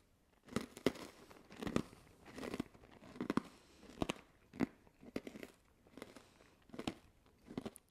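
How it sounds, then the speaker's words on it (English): Snyder's jalapeno pretzel pieces crunched close to the mic, about a dozen sharp bites and chews in a steady rhythm, each a crisp brittle crack with no talking. "Pretzel is hard and crunchy, nicely salted too."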